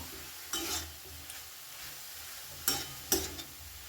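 Chicken coated with spices and ginger-garlic paste being stirred in a pan, a few separate scraping strokes with a soft sizzle between them, close and fairly quiet.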